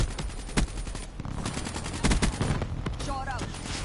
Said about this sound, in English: this nigga's shooting through the garage